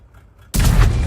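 A tank gun fires a kill shot in World of Tanks, the Grille self-propelled artillery piece, delivering a sudden loud broadband boom that rings on for over half a second after a quiet stretch.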